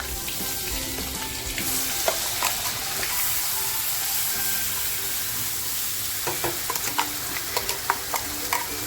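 Homemade masala frying in hot oil for pomfret gravy, a constant close sizzle and hiss with intermittent spoon scrapes and stirring taps.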